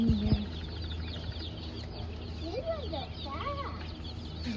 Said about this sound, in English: They have a lot of small chicks in here.